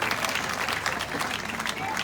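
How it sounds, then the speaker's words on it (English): A fashion show audience at a college design event claps steadily for the 15 competing designers, a dense, continuous wash of applause from a crowd with a faint murmur of voices underneath. "A round of applause for them."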